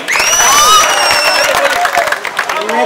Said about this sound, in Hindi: बढ़िया लगा तो ताली बजाइए भाई के लिए।